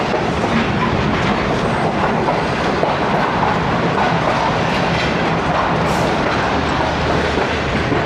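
Tezgam passenger train running toward Lahore Junction, a steady loud rolling rumble with rail clatter and broadband rushing noise throughout, close and continuous.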